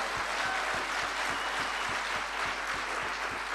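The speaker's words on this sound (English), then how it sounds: "Big round of applause for Mr. Holton Bucks." Steady applause from a seminar audience fills the room, dense continuous clapping at an even level from start to finish.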